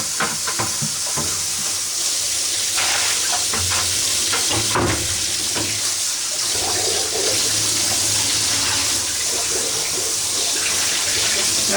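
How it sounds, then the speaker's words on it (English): Loose black Procion dye being rinsed out of jeans in a plastic bucket: a steady, loud rush of running water with splashing and sloshing of wet fabric throughout. "And I'm rinsing out the loose dye"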